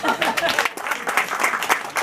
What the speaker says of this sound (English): And so, Mary, on behalf of your mother, we would like to applaud.